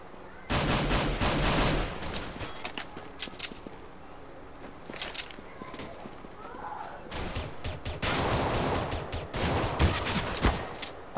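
Bursts of rapid gunfire in a first-person shooter game during a pistol round, loud clustered volleys with shorter scattered shots between them, some faint voice underneath.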